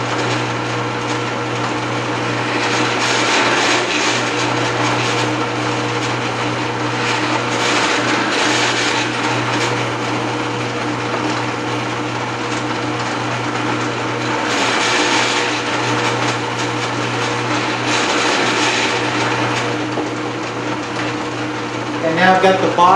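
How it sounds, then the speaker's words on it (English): A power drill bores entry holes into the wooden wall units of a scrolled round inlay box, a steady high-pitched motor whine running continuously with slight surges in load, close and loud throughout. "We want to go ahead and drill an entry hole on the inside and the outside of each one of the wall"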